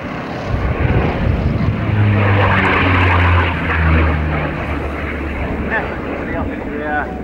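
A propeller airplane taxis toward the runway and begins its takeoff, a loud sustained engine drone that swells and stays steady, heard under a person talking.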